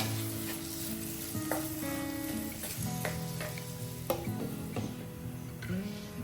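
Capsicum and onion sauté in a pan for shakshuka, a constant close sizzle with intermittent clinks and scrapes of a stirring utensil, without speech.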